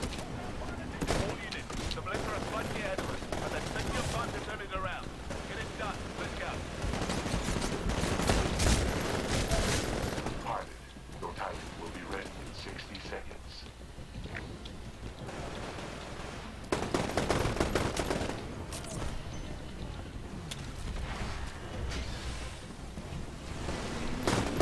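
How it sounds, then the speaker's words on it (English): Rapid bursts of gunfire fill a Titanfall beta match in Attrition mode, dense and continuous with several heavier volleys, while someone talks over the shooting. "Where are they shooting at me from?"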